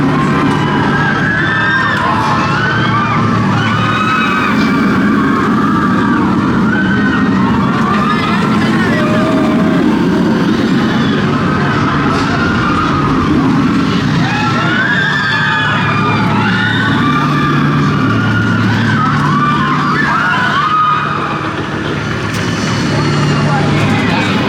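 Swarm roller coaster at Thorpe Park in full ride: a constant loud rush of wind and rattling track under shouting and screaming riders, with voices throughout.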